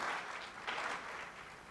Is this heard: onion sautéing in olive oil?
no